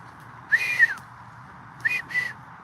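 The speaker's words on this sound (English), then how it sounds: "You hear that whistle?" Outdoors, two separate whistles sound, the first a single sliding tone and the second a pair of quick short notes, fairly clear over a quiet background hum.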